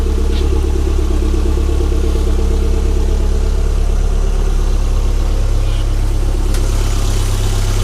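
Turbocharged engine of a 1992 Toyota MR2 GT Turbo coupe idling steadily at a Japanese car auction, a close, even low rumble with a light ticking tappet chatter running throughout.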